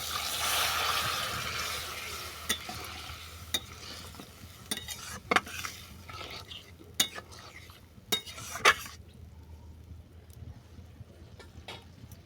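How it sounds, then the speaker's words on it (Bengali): Boiled jackfruit and potato going into fried spice paste and being stirred, a soft rushing sizzle at first, then scattered spatula clinks and scrapes against the pan, close and moderately quiet. "এরপর এর মধ্যে তুলে দেবো সেদ্ধ করে রাখা এঁচোড় আর আলু।"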